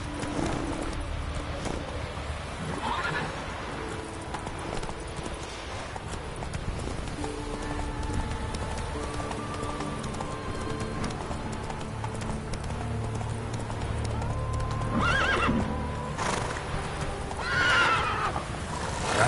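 Roach the horse galloping in Witcher 3, with rapid clip-clop hoofbeats and several loud neighs and whinnies over background game music and ambience.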